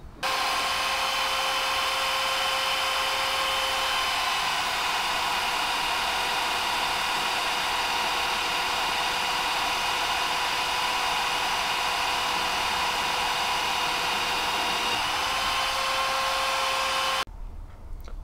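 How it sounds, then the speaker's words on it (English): A power drill boring holes in a knife guard runs in one long, steady whine close by, holding the same pitch before cutting off abruptly near the end. "What I need to do now is drill these three holes."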